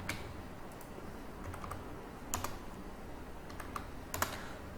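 Code being typed on a computer keyboard, soft irregular key clicks with a few sharper bursts of taps, close and quiet over a faint room hiss.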